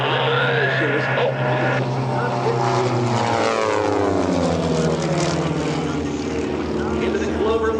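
Redline Airshows propeller airplanes fly in formation over an airshow crowd, a loud droning engine roar that sweeps in pitch as the planes pass overhead, with a voice talking beneath the noise.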